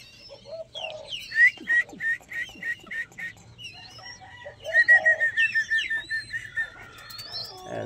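Zebra doves, called bato-bato, cooing in their cage, giving rhythmic repeated soft coos and trills in two clear bursts, close and moderately loud, with other bird calls scattered around them.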